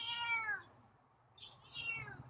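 A feral cat named Scruffy gives a clear, close meow that falls in pitch, followed after a short pause by a softer chirping meow and a longer drawn-out cry, in a quiet chilly setting.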